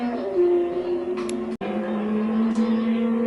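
Small electric motors of Carrera Digital slot cars whine at a steady, high pitch that shifts as the cars circle the track, with a brief cut in the middle.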